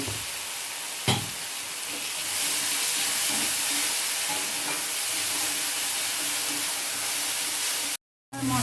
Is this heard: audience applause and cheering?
no